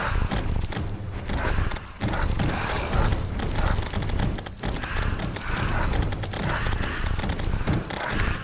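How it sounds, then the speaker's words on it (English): Magic weapons fire continuously in Terraria, a dense, steady stream of rapid crackling and popping shots that keeps going at near-constant loudness with no pauses and no talking. "I can just continually fire my magic weapons."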